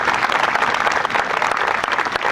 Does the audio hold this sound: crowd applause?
yes